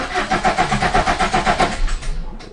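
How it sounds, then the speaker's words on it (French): A Fiat Punto engine cranks on the starter after an oil and four-filter service, giving a steady, rapid, rhythmic churning for about two seconds that then cuts off without catching. The sound is close and loud, with no talking. "Donc, je suis quasiment sûr que ça va démarrer là."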